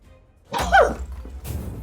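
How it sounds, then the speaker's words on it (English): A single sharp sneeze bursts out close up after a moment of quiet, followed by a brief rustle. "I really need to sneeze."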